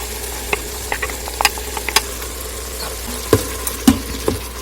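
A spoon stirs marinara sauce with quinoa and black beans in a pot, producing a quiet low bubbling bed punctuated by irregular metallic clinks and scrapes against the pot.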